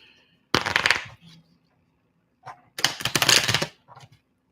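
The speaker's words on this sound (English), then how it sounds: "That was the poopiest shuffle." A deck of cards, used for a tarot-style reading, is riffle-shuffled up close in two quick, crisp bursts about two seconds apart, with quiet between them.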